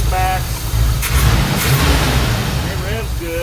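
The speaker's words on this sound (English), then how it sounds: "It revs good." A car engine, being tuned at the idle mixtures, revs up in a surge and settles, close and loud, with a person talking over it.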